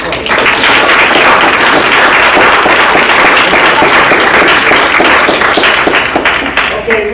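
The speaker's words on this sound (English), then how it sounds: "another round of applause" Loud, sustained applause from an audience at a South Carolina Moorish Consulate gathering, dense clapping throughout with a few voices mixed in.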